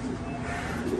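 Pigeons coo close by in one short, soft, throaty burst that lasts about a second.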